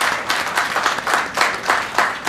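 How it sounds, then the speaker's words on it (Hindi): A crowd at a public political speech claps together in a dense, fairly loud rhythmic round of applause throughout, with no talking over it. "उसके लिए सरकार को एक बार ताली बजा के सब लोग धन्यवाद करिए।"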